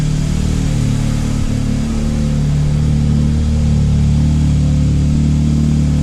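An Audi S3 engine with factory exhaust and resonator delete rumbles loudly nearby with a deep, throaty note, holding a steady idle with slight shifts in pitch.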